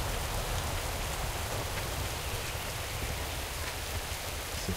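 Steady video game rain falls evenly and continuously, a dense hiss of drops with no voices or other sounds breaking through.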